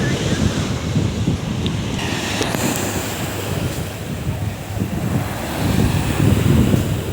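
Sea waves rolling onto the beach at East Coast Park, Singapore: a steady, continuous wash of surf with gusty wind buffeting the microphone, fairly loud and close throughout.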